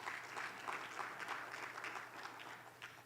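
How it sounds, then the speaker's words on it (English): An audience at a Pittsburgh political discussion event applauds steadily, a dense wash of many hands clapping at an even level throughout, close and continuous with no speech over it. "So please give yourselves a round of applause"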